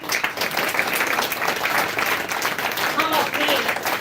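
Audience applause at an annual day celebration in PD Vihar, a dense steady wash of many hands clapping at full level throughout, with voices mixed in.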